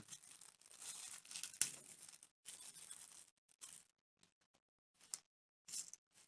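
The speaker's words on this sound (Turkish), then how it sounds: "Poşetin içinde geliyor. Bunu da açalım." A thin plastic bag packaging a Boya M1 lavalier microphone is torn open and crinkled close up: several bursts of tearing and crackling separated by short silent gaps, quiet overall and without speech.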